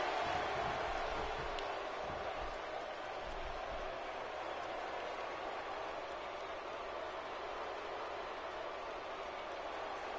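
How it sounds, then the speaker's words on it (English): Steady roar of an arena crowd in the WWE 2K16 wrestling game, a dense continuous wash of cheering held at an even level for the whole stretch, with no voices talking over it. "by the sound of this crowd, I think they're getting what they wanted"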